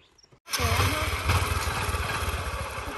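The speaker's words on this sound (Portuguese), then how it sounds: "deixa eu ligar a moto" A motorcycle engine starts after a brief quiet moment and settles into a close, steady idle with an even pulsing chug that continues to the end.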